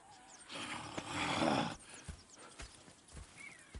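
Horses in the video game Red Dead Redemption 2 give a breathy neigh, followed by a few soft hoof clops and snorts, quiet and fairly close.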